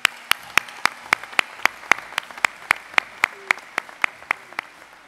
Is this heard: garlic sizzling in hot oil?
no